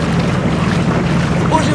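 A motor boat sets off on a river in the Russian Far East, its engine a loud, close, continuous rumble mixed with wind buffeting the microphone.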